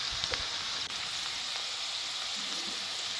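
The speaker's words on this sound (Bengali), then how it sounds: "এবারে কেটে রাখা পেঁয়াজ কুচিগুলো দিয়ে দিলাম। পেঁয়াজগুলোকে ভালো করে লাল লাল করে ভেজে নিয়েছি।" Chopped onions fry in a pan, browning with a steady close crackling sizzle and a few light clinks, with no voices over it.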